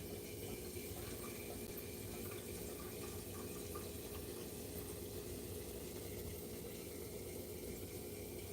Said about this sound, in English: Putting water in the Keurig right now.